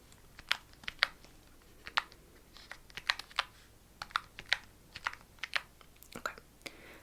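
Social security number typed on an office keypad, a run of close, crisp key clicks in an irregular rhythm, each press distinct against a quiet room with no talking.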